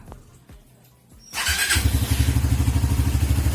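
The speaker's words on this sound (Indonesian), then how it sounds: "Kalau udah penuh, kita nyalakan dulu mesinnya, kita panasin" A Suzuki GSX motorcycle engine cranks over and catches after a second of quiet, then settles into a loud, close, steady rhythmic idle as it warms up, with no voices.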